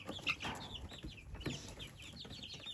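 Chickens clucking in a coop pen, with several short, overlapping calls close by and scattered through the clip over a low, busy background.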